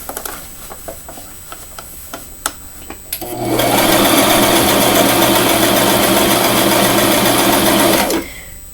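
A sewing machine stitching pink frock fabric runs in one fast, continuous burst of whirring stitches for about five seconds, preceded by a few light clicks and taps.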